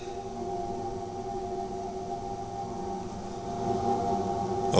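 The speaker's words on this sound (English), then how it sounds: "That's the sound of Jupiter." A recording of Jupiter's radio emissions plays as a faint, steady droning hiss with wavering tones, evenly textured throughout with a brief swell at the end.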